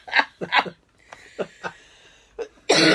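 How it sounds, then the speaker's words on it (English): Several sharp coughs in quick succession, close by, with short pauses between bursts and a harsher, louder cough at the end. "I'm sorry about the coughing."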